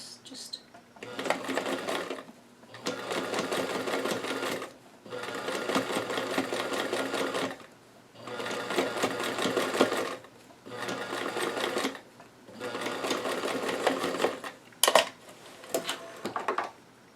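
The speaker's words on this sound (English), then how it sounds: "I'm going to leave this on the basting stitch because I'm going to be sewing over this again" A sewing machine runs a basting stitch on a doll dress in repeated steady bursts of about two seconds with short gaps, close and clear, ending with a few sharp clicks.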